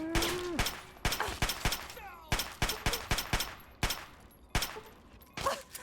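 Gunfire from the Fallout 3 video game: sharp single shots in irregular clusters, some close together and some spaced apart, each with a short echoing tail, loud against a quiet background.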